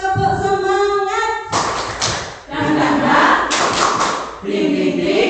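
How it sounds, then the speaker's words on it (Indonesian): A standing group of adults in a school or training session performs the tepuk semangat rhythmic clapping game, with sharp collective claps and thumps in bursts, mixed with a voice that rises and falls at the start. "Tepuk semangat."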